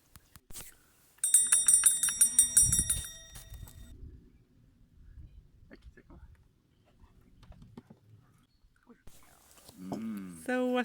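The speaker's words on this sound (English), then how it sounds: "So now it's time to ring the food bell." A bright metallic bell rings in a quick run of strikes, sustained and clanging near the mic, then trails off into quiet voices.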